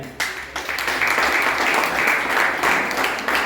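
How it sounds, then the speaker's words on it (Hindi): An audience applauds at a Hindi comic poetry gathering for a cleanliness fortnight, with dense, sustained clapping that holds steady at full strength throughout. "आप लोगों का समर्थन चाहिए तालियों के रूप में"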